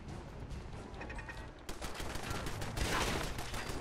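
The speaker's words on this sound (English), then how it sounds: "Uh-oh, my own turret's attacking." An automated turret fires in Fallout 4, bursts of gunfire crackling over game ambience and getting louder and denser in the second half.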